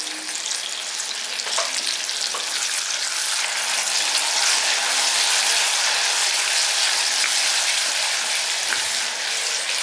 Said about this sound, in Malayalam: ഇനി കറിവേപ്പിലയും കൂടെ ചേർത്ത് കൊടുക്കാം.